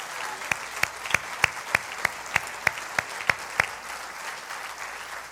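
A church congregation claps for Jesus Christ during a Sunday sermon, a steady run of sharp, loud hand claps that thins out and fades toward the end.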